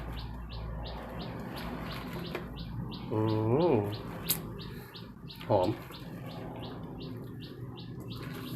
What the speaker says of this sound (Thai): เสียงนกมาร้องเลยแต่เช้าเลย